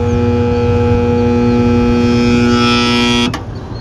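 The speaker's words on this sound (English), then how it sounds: "The motor just locks up." CaptiveAire kitchen exhaust fan motor driven by a VFD at low setting, giving a loud steady electrical hum with strong tonal drone, then abruptly cutting off as the faulty motor locks up.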